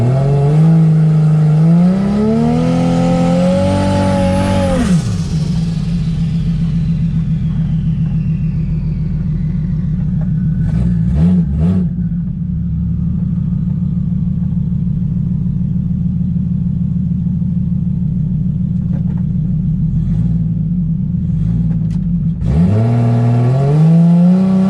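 A 1JZ-engined Fox Body car is held on line lock, its engine revving hard and then settling into a loud, sustained high-rev drone. Brief pitch dips break it up before it revs up again at the end.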